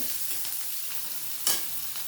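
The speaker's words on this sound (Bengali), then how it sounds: "পেঁয়াজ রসুনটা বেশ ভালো করে একটু কষিয়ে নেব" Chopped onion and garlic sautéing in a pan, a soft steady sizzle with one quick stir scrape near the end, close and without talk.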